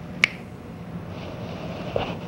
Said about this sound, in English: Now I'm going to snap my fingers.